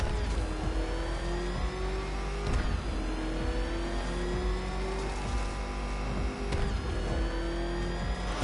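A Batmobile engine in Batman Arkham Knight revs hard and steadily, with rising and falling pitch sweeps and a few sharp shifts, loud and close with no talk.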